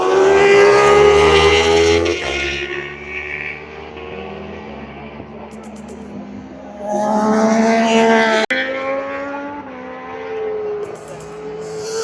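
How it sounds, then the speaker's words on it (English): Junior Sportbike motorcycles racing at Oulton Park during a British Superbikes weekend, loud high-pitched engines screaming past close by, rising and falling in pitch as bikes pass, with a second wave approaching later. "Now for the races, we've got the Junior Sportbikes out now."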